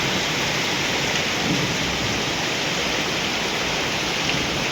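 A heavy thunderstorm in rural Thailand, with dense, steady downpour and strong wind roaring continuously at close range, a broad unbroken wash of rain with no voices.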